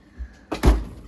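A refrigerator crisper drawer, its rollers bent, is pushed along its track: a soft knock, then a louder rolling scrape and thump close by, no talking.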